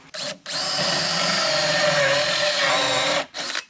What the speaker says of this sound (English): whenever you're running a hole saw through a piece of plywood, it's best to not run it all the way through